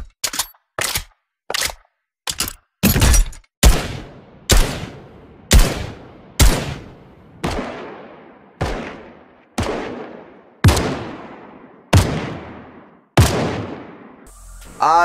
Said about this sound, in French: ici vous avez l'AK-47 lourde et tout simplement le fusil d'assaut à lunettes